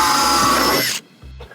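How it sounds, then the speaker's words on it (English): A power drill whines loudly and close as it bores a small hole in an inflatable boat, running steadily for about a second before stopping. A short second burst of the motor follows. "Way easier when you drill the small hole first."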